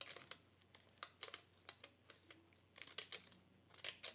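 Cheap scissors snip through paper in a quick series of sharp, crisp cuts, faint and close, about a dozen clicks in an irregular rhythm.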